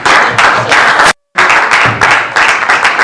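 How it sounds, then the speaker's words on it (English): An audience applauds after a talk, with dense clapping from several people that keeps going in steady bursts, broken once by a brief gap. "I got a clap."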